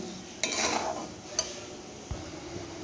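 A utensil scrapes and clinks against a pot a few times as Gobindobhog rice fries, with a soft steady hiss of frying underneath.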